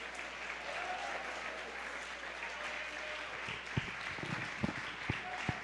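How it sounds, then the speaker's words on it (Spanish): Church congregation at a worship service claps for the Lord, a soft, fairly distant patter of hands under a low hum, with a few louder, closer individual claps near the end. "Dele un fuerte aplauso al Señor"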